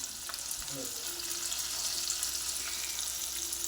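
Asafoetida hits hot oil in a pan with reddened garlic, giving a steady, soft, close sizzle and frying hiss that runs throughout.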